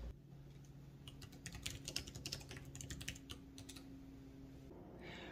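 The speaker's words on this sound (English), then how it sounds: "I'll let you guys listen to how loud the keyboard is." Quick typing on an Arteck Bluetooth keyboard, a faint run of soft, rapid key clicks in an uneven rhythm, close up and quiet, ending with a brief pause.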